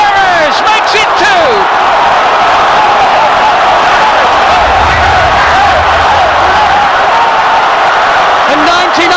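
A stadium crowd roars for a goal at the Colombia vs Greece World Cup match in Belo Horizonte, a dense, steady wall of cheering under a commentator's voice throughout.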